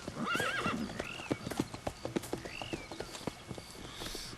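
Horses in the open-world western game Red Dead Redemption 2 neighing and whinnying over clip-clopping hooves, several distinct whinnies and an irregular run of sharp hoof strikes, moderately loud.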